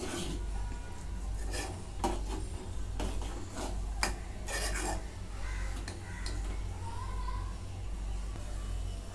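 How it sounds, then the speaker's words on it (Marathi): A spoon scrapes and knocks against a cooking pot while sambar with jaggery and sambar masala is stirred, giving soft, irregular rubbing and clinks over a steady low kitchen hum. "आता हे सगळं मिक्स करून घेते."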